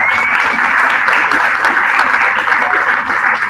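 Sustained applause from an audience at a school district strategic planning meeting, steady dense clapping held at an even level throughout, with faint chatter mixed in.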